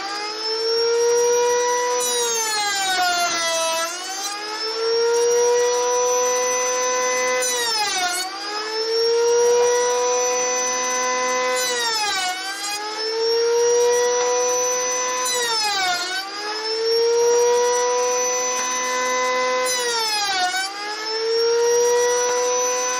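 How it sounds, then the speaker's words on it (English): A wood router runs with a vacuum cleaner pulling dust from underneath, giving a loud, continuous whine whose pitch sags and climbs back up about every four to five seconds as the cut loads and frees the motor. "I'll switch the router itself on."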